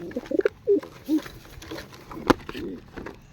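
Pigeons give several soft, low coos in short bursts, close by, with a brief louder sound partway through and no talk over them.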